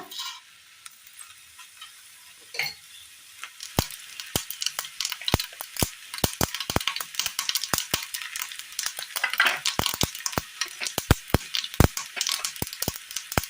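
Mustard seeds popping and sizzling in a little hot oil for a Kerala curry, a steady fry hiss broken by many sharp, irregular crackles that grow denser toward the end, close and fairly loud.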